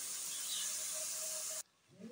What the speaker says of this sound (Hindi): सोया सॉस, अब मैं इसमें राइस डाल दूंगी।